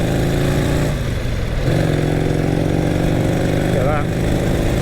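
A 1938 Vincent Series A Rapide motorcycle engine running loud and steady close by, a continuous rumbling drone with slight pitch shifts as the rider moves, with some talk over it.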